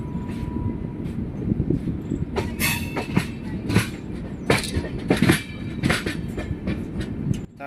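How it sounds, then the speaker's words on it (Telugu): A train near Secunderabad railway station crossing over track switches, with heavy rumbling wheels and a run of sharp metallic clacks and squeals in irregular bursts, loud and close, no voices. "ట్రైన్ ట్రాక్ చేంజ్ అయినప్పుడు వచ్చే సౌండ్ ఉంటుంది చూడండి"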